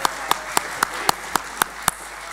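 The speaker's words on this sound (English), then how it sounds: "Give him a round of applause." Applause from an audience at a UKIP party conference speech in 2019, a steady wash of clapping with evenly spaced sharp claps standing out above it, fairly even in loudness throughout.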